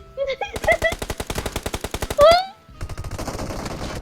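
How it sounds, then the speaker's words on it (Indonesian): Rapid automatic gunfire from PUBG Mobile, a dense burst of evenly spaced shots followed by a louder blast and a rougher, noisier stretch of continued firing, with game sounds layered over it. "Ah, nembakin lo semua Pak Ayu"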